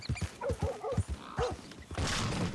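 A dog in Red Dead Redemption 2 gives a quick run of short barks and yips, several sharp bursts close together, then a breathy, noisy stretch.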